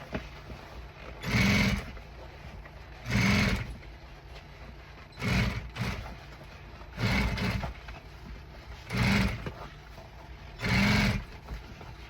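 Sewing machine top stitching gym pad upholstery in short repeated bursts, six brief whirring runs separated by pauses, close and moderately loud.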